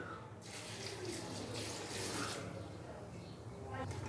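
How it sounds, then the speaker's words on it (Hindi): A glass of water splashes into a cooking pot of beef and onions, a continuous pour with a bright splashing texture, steady and near, with no talking. "साथ में हम इसके अंदर डालेंगे 1 गिलास पानी।"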